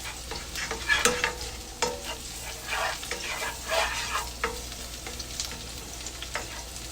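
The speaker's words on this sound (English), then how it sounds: "I'm going to cook my minced garlic for a little bit before I add my green beans" Minced garlic frying in a pan before green beans go in, a steady close sizzle with scraping stirs and clacks of a utensil throughout, no talking.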